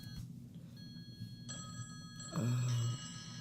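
A phone rings indoors during an informal stage performance, with electronic ringtone tones sounding in short repeated bursts, moderately loud against a low room hum, and no talking over it.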